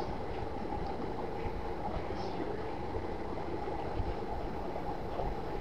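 A CB28 pump testing machine running at 300 RPM, a steady low mechanical hum and rumble held at an even level throughout, fairly quiet and uninterrupted.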